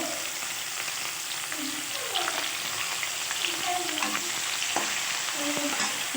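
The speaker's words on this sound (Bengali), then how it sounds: "কচানো পেঁয়াজটা দিয়ে একটু কষিয়ে নেবো" Chopped onion sizzles in hot oil in a pan while a spatula stirs and scrapes it, a steady crackling fry with scattered clinks, and no talk.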